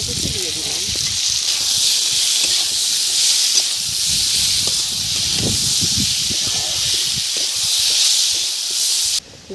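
Potatoes with fried onion and freshly added chopped tomato sizzle steadily in a pan, a loud continuous hiss with scattered crackles and spatters throughout, almost alone until it cuts off abruptly at the end.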